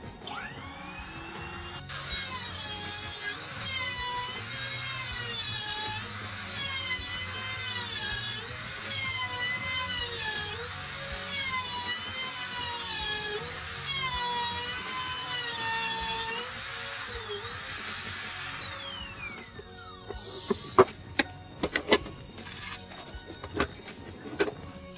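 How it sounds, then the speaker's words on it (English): A router spinning at full speed cuts a dovetail joint in a wood board held in a jig, giving a sustained high whine with wavering pitch for about eighteen seconds, then winding down into clatters and knocks. "Now we'll cut this side. Once again, you want your bit to be moving at full speed when you enter the workpiece."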